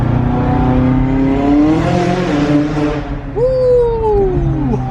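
A 790 hp McLaren with a Stage 2 bio-ethanol tune accelerates hard, its loud engine note climbing steadily from inside the car before a gear change drops the pitch and it pulls again.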